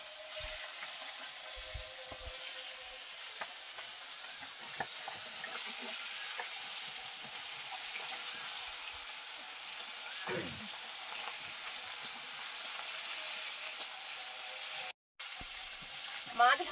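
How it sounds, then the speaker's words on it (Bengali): Pieces of bhola fish fry in hot oil with a steady, close sizzle that lasts throughout, broken by a few faint clinks and knocks of kitchen utensils. "মাছ ভাজা হয়ে গেছে, তুলে নেবো, আর বাকি মাছগুলো ভেজে নেবো।"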